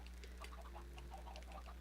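Chickens and a small chick cluck and peep in short, scattered calls over a low steady hum, fairly faint and close by.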